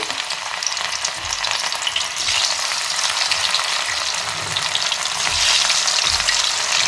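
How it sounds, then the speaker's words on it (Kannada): Cauliflower (gobi) deep frying in plenty of oil over low heat, a steady close sizzle and hiss that swells slightly toward the end, no voices. "ಸ್ವಲ್ಪ ಎಣ್ಣೆ ಜಾಸ್ತಿ ಹಾಕ್ಬೇಕು ಮತ್ತು ಎಷ್ಟು ಎಣ್ಣೆ ಹಾಕಿರಲ್ಲ ಇವಾಗ ಅನ್ಕೋಬೇಡಿ ಅದೇ ಡೀಪ್ ಫ್ರೈ ಮಾಡಬೇಕು"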